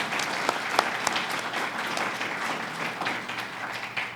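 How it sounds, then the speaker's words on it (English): Audience applause at a press conference on the Kellogg-Briand Treaty, steady moderate clapping from a crowd with a few sharper individual claps standing out, sustained throughout. "You can applaud."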